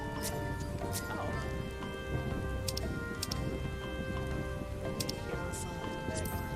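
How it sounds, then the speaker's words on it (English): Steady rain falls in Final Fantasy XIV Stormblood, a soft continuous patter with scattered sharper drop ticks over a faint tonal game ambience. "The rain is going away."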